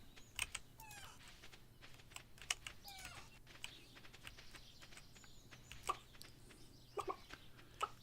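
Chickens clucking in the farming game Stardew Valley, short faint chirpy clucks scattered over quiet background, mixed with rapid keyboard typing clicks.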